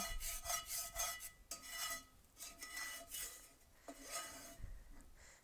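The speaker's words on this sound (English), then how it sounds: "I'm going to take my spatula and I'm going to kind of scrape all my extra bacon grease" Metal spatula scraping leftover bacon grease and cooked-on bits across a hot cast iron pan, a series of faint, quiet rasping strokes in an irregular rhythm.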